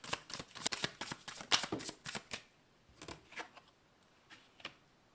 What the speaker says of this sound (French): Allez, je vais tirer une dernière carte.